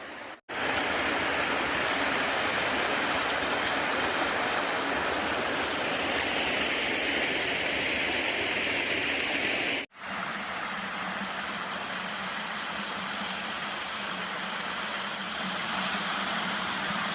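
Steady broadband rush of a stream and waterfall at the Devil's Bathtub swimming hole in Virginia, close and continuous, with a brief cut partway through.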